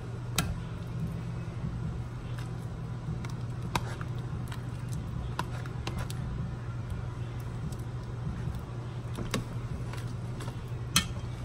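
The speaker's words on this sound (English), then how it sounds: "Starting to boil up now." Broth in a pot starts to boil on the stove, a low steady hum with sparse soft pops and ticks of bubbling scattered throughout, fairly quiet and without talk.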